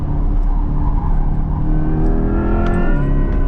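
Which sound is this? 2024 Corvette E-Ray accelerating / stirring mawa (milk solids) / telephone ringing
2024 Corvette E-Ray accelerating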